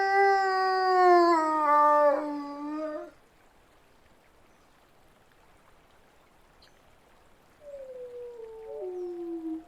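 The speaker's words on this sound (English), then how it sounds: "In the distance, a chorus of howls catches the youngster's attention." Wolves howling at Tower Fall: a long, harmonic-rich howl that bends downward and fades out, a quiet gap, then another lower, gliding howl rising faintly from farther off.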